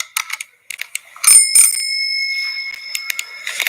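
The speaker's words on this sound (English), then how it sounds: "I have one that's a hamburger bicycle bell" A hamburger-shaped bicycle bell rings in several bright metallic dings, a few quick taps then longer ringing tones that linger and fade, close and loud with no talking.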